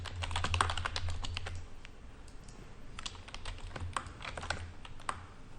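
Close, fairly quiet typing on a computer keyboard, with steady clusters of keystrokes, a short pause near the two-second mark and then more bursts of typing, with no speech.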